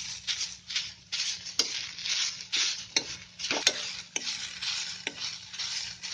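Fresh mini prawn kachori filling sizzles and frys in a pan, a steady crackling hiss broken by several sharp stirring scrapes and clicks of a utensil against the pan, close and moderately loud with no talking.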